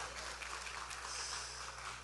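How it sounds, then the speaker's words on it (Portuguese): A church congregation applauds, producing a steady, dense wash of clapping at a fairly faint level that holds evenly throughout without a break. "vamos aplaudir o Senhor"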